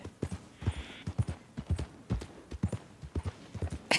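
Rapid, steady clip-clop of video game horse hooves trotting along, close and clear, with no voices over it.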